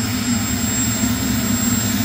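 A loud, steady jet aircraft engine roars continuously at close range, with a constant high whine riding over the heavy low rumble and no talk.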